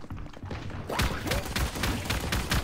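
Rapid gunfire from a first-person shooter video game, several close, sharp shots cracking in irregular bursts after a quieter opening, with faint talk beneath.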